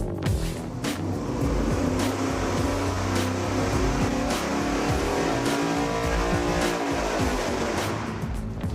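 A V8 performance engine pulls on a dyno with 12-inch extensions, roaring loud and close as its revs climb and waver, with a harsh, crackling exhaust note throughout.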